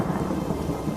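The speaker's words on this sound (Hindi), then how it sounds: "अरे देखो, बारिश शुरू हो गई।" Rain begins in a children's animated story about a donkey and a goat, a steady dense patter with low rolling thunder rumbling beneath it, loud and continuous throughout.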